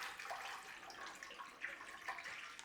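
Water poured into a cooking pan for boiling sausages, a continuous splashing stream with bubbly surges, close but fairly soft, with no voices.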